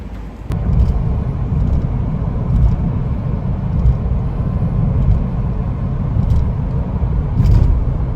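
A car cruising along on a long road trip, heard from inside as a steady, loud low rumble of engine and road noise with a few faint clicks above it.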